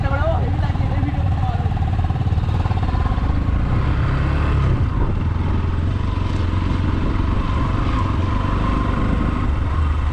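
Motorcycles rumble as riders prepare to set off on a group ride from Purulia toward Kolkata via Ayodhya Pahar. A loud, steady low engine drone runs throughout while people talk nearby.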